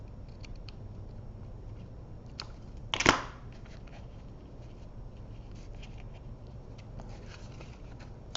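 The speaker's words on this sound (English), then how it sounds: "I think I'll trim it a little bit more." A card being trimmed, with one short, crisp cut near the middle standing out against a quiet room, surrounded by faint scattered ticks.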